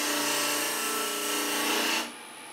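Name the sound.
Sorby fingernail gouge turning milk pear wood on lathe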